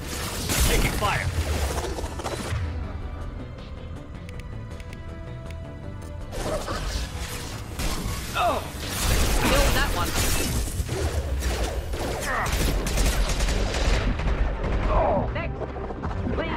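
Gunfire in the video game Mass Effect 2: repeated bursts of sharp shots and impacts with mechanical clatter and crashing debris, mixed with voices talking during combat.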